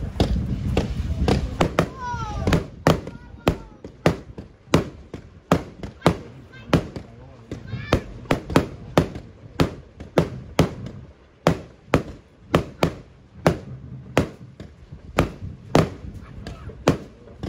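A 36-shot fireworks battery firing from 30 mm tubes, with a rapid series of sharp, loud bangs at a steady, slightly uneven rhythm across the whole stretch, plus crackle between shots and a voice briefly heard at the start.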